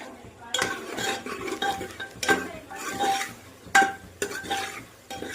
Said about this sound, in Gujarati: પછી આપણે એને હલાવી નાખશું।